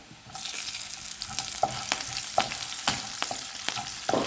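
Green chillies sizzling in a hot frying pan for a restaurant-style fish molee, a continuous close frying hiss with repeated clinks and scrapes of stirring.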